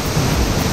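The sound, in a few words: waterfall roaring in Prealpi Giulie park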